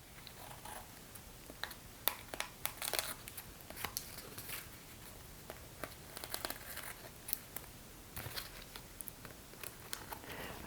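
A paper tag for a junk journal is trimmed with scissors, giving a series of soft, close snips and crinkles of paper in an irregular rhythm, with no talking.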